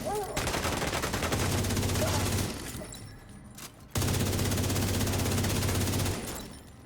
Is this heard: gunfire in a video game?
yes